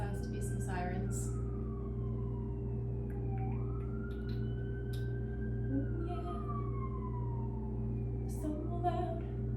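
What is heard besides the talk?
emergency vehicle sirens outside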